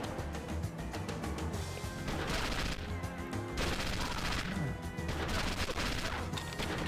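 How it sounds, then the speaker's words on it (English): Dense, sustained gunfire from a minigun-style weapon in the 2003 shooter video game XIII, rapid continuous shots with crashing impacts layered over game music, loud and close throughout. "This gun's kick is crazy."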